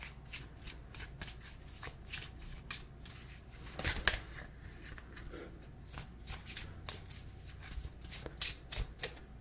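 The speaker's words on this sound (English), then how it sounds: "Some people say that they like the shuffling of the cards." A tarot card deck is shuffled close up in a quiet room, with crisp rapid riffles and flutters of cards coming in uneven bursts, loudest near the middle, with no talking.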